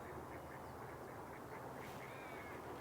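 A pair of wood ducks quack faintly in the distance, soft repeated calls over a low, steady outdoor rumble in a marsh; nobody speaks.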